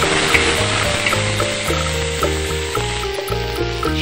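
Tomatoes cook in a hot pan for a dried bombil (Bombay duck) chutney, giving a steady, close sizzle and crackle that runs throughout beneath a loud tonal musical backing.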